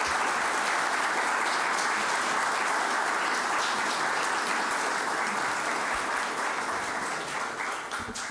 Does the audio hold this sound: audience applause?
yes